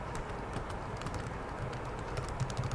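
Keys clatter on a computer keyboard in steady, moderately close bursts while data is entered into an Excel spreadsheet, with no voices over the light background hum.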